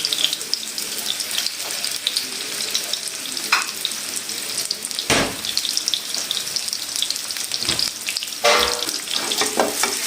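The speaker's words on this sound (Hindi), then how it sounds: "अब जैसे ही मेरा ऑयल थोड़ा सा गर्म हो जाएगा तो मैं इसको फ्राई करना स्टार्ट करती हूँ।" Chicken gola kababs fry in hot oil over a medium flame, giving a steady close sizzling hiss throughout, with a few clinks and stirring knocks mixed in and no talk.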